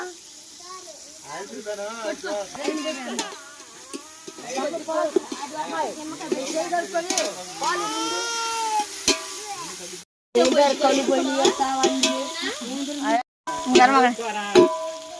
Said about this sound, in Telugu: అల్లం వెల్లుల్లి పేస్ట్ అయితే మొత్తం ఫ్రై అయింది కదా